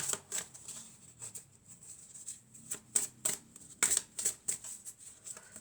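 Tarot cards handled and drawn from a deck, a series of irregular, close papery slides and flicks in quick bursts, with no talking.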